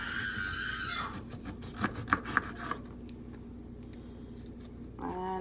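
An aloe vera leaf being cut, with a handful of soft rubbing and slicing strokes and a few sharper snips up close, set against a quiet tonal background.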